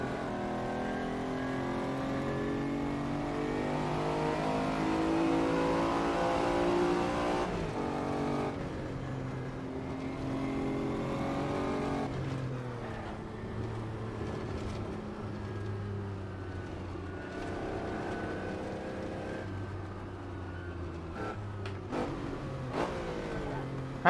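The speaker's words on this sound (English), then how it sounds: "Gotta get that heel and toe going." A car engine revs and drops in pitch through heel-and-toe downshifts, with a steady mid-level engine drone and several rising and falling blips, and no talking.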